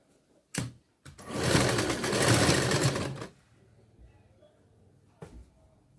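A sewing machine stitches blouse fabric, a steady close whir running about two seconds after a brief clunk of starting, with short handling thumps before and after in an otherwise quiet room.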